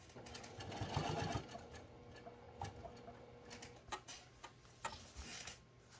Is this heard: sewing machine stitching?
yes